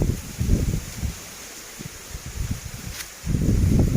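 Wind blows across a field and rustles leaves in rough, gusty bursts, loud at the start and the end and calmer in between, with the roar of wind striking the microphone.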